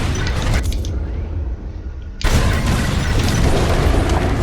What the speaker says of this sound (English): It's bombs away. Now!